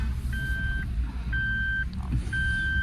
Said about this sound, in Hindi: हाँ ये सीट बेल्ट वाला आवाज ना,